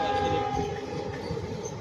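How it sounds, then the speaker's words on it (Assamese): A train rolls slowly past a level crossing, a close rumbling rail noise with a steady tonal whine or horn-like hum under it. "ট্ৰেইনখনো মানে কম স্পীডত গৈ আছে"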